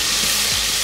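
Onions frying in oil in two pans at once give a steady, close, even sizzle and hiss with no voices over it.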